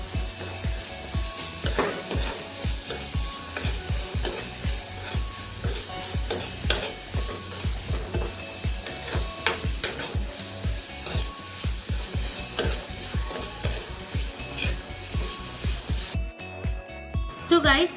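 Spices stirred in a pan, a dry mix of cumin-coriander powder and salt, with scraping and light sizzle running steadily throughout alongside background music.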